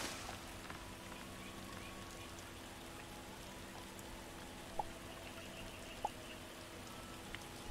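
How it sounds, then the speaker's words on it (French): Steady, soft rain falls in the video game Starbound, a continuous low patter and hiss with a couple of faint sharp drips, no talk over it. "Oh, à nouveau une pluie s'abat sur ma planète"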